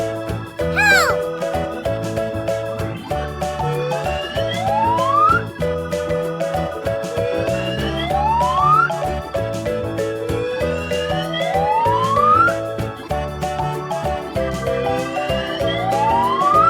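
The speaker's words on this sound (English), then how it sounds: "Blue police car." Cartoonish police car siren effect in a children's song, rising whoops repeating over bright jingly music with steady beats, loud and up front, with a voice naming colours.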